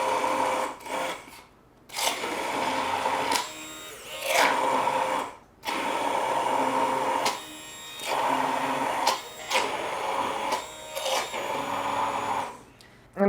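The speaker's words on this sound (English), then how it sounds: "I'm going to stick my immersion blender back in here to emulsify" An immersion blender whirs in a kitchen while emulsifying homemade mayonnaise with rosemary, running in loud bursts of several seconds separated by brief pauses, with the motor pitch shifting as it works.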